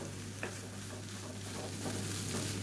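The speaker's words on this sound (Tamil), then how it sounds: "இதை நல்லா கிளறி விட்டுக்கோங்க." Rice mixed with egg masala is stirred in a pan over high flame, a quiet hiss with faint intermittent scrapes and taps over a low steady hum, with no speaking.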